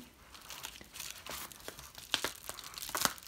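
A tightly packed parcel being cut open, with quiet crinkling, tearing and crunching of packing material in short irregular bursts that grow louder toward the end.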